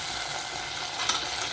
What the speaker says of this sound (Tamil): இது கொஞ்சம் எண்ணெயிலே வதங்கணும்.